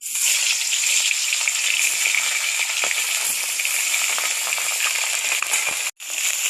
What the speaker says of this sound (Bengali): তেলটা গরম হয়ে গেছে মাছগুলো দিয়ে দেব